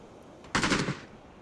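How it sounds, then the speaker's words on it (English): A single short burst of rapid automatic gunfire in the video game PUBG rings out loud and close, lasting about half a second, then fades into quiet background hum. "Gunshot."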